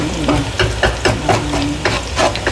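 Onions sautéing in a pan for a crab curry, stirred with a steady rhythm of repeated scraping strokes over a soft, continuous sizzle, close and fairly loud with no talking.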